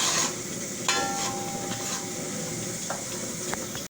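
Chicken sautéing in a pan with coriander powder, a steady close sizzle with occasional scraping and stirring clinks throughout.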